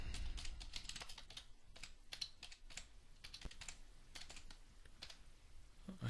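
Fast, light clicking of a computer keyboard as a name is typed in, irregular bursts of close, quiet keystrokes with short pauses and no voices.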